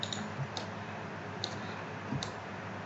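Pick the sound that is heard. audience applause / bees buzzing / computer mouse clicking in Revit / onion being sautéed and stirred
computer mouse clicking in Revit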